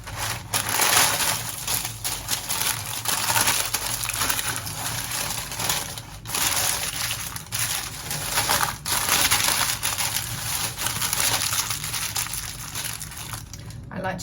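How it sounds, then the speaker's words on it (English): Baking paper crinkles against the edges of a baking tin for flapjacks, a close, continuous crackling and rustling that comes in bursts, with a voice speaking now and then over it. "I like to just crinkle the edges a little bit around the edge to kind of hold it in place"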